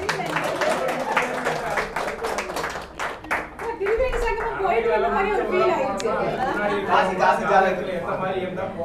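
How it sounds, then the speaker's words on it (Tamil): Audience at a temple gathering clapping for a speaker, a burst of applause with crowd chatter, mixed with a voice talking over it. "அவருக்கு ஒரு ஒரு கைதட்டல் போடுங்க"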